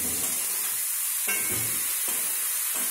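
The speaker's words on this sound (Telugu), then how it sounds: "ఈ పోపు వేగింది, ఇప్పుడు మనం ఉడికించిన జునుములు వేసుకుందాం." Boiled junumulu are stirred into a fried tempering in a pan, giving a steady loud sizzle broken by several scraping stirs, with no talking.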